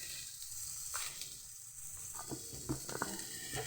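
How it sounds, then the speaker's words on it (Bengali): Broad bean pods (bimsuti) frying in oil in a pan, a steady quiet sizzle with small crackles and pops scattered through, no talking. "বিমসুটিটাকে ভালোভাবে ভেজে নেব।"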